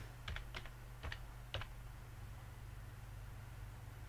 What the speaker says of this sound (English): Okay, let's type,